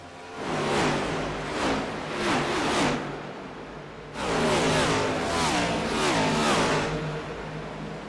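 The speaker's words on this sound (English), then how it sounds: "Get a good listen to that roaring engine sounds that these things bring out" Roaring engines of sim racing cars in a video game at Charlotte sweep past in repeated loud whooshing waves, several cars rising and falling in pitch in a steady stream.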